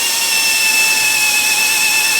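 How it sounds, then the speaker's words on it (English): Pneumatic air drill running steadily in a workshop on a rat rod truck build, a loud, close, continuous high-pitched whine with a hissing airy edge and no talk. "that's why I'm using the air drill."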